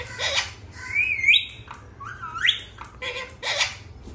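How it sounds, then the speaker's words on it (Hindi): A pet parrot squawks and whistles in several sharp, rising calls, close and fairly loud, with short pauses between them. "फिलहाल आपको तोतों का शौक करवा दिया जाए। ये देखें वो हमारा मिट्टू है"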